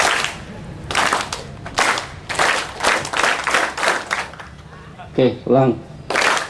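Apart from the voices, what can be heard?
audience clapping on cue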